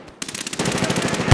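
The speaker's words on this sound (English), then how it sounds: "Shotgun. It's pretty cool." Rapid shotgun blasts in Medal of Honor: Warfighter, a fast string of about a dozen loud, close, evenly spaced bursts with no talk.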